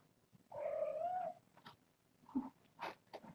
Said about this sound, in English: That's just their coo noises when they're going to the bathroom or just when they're just talking.